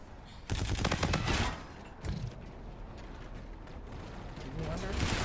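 Video game gunfire bursts out in a loud, dense volley, then trails off into scattered, more distant shots and mechanical clatter under a steady background rumble.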